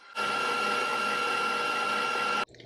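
An electric whisk beats a mixture, a steady, loud mechanical whir running for just over two seconds close to the microphone before cutting off abruptly.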